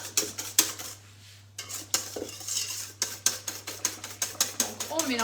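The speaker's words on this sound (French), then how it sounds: "Donc on mélange bien pour qu'il n'y ait pas de grumeaux" A utensil clinks and scrapes rhythmically against a bowl while cake batter for a moist pear and chocolate cake is mixed, steady repeated knocks with a brief pause, close and clear, with a low hum beneath.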